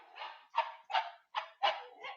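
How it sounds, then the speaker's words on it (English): Several dogs bark indoors in a quick series of six sharp barks and yips, fairly close but moderate in level, with no talk. "Oh, sorry, my dogs are freaking out."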